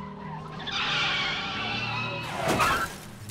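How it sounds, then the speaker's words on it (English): In the film The Babysitter, a stolen car skids with squealing tires and then crashes into a house, ending in a sharp burst of shattering impact. The sequence is brief, close and loud, with no talking. "Dude, Cole stole a car. Rammed his house."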